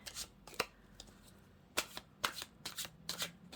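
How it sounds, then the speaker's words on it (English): Tarot cards are shuffled by hand in bursts of crisp riffling and slaps, several sharp clusters spread over a few seconds, close and clear with no talk. "So what I'll do is I'll just shuffle my clarifiers a minute."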